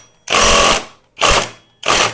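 Three short, loud bursts of a power tool, an impact-style whir with a ratcheting rattle, tightening the 19 mm magneto bolt on a Hero Karizma XMR 210 motorcycle, heard up close with brief pauses between bursts.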